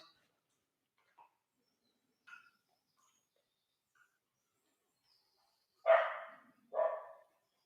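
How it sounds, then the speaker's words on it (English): A dog gives two sharp barks from a distance, following a few faint scattered sounds in an otherwise quiet setting. "So that's Leah the dog barking."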